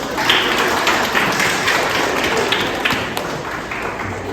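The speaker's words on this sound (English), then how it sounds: "Clap for yourselves." An audience of schoolchildren and guests applauds at a primary school inter-house English elocution competition, a dense, loud, sustained wash of clapping lasting several seconds and tapering slightly toward the end.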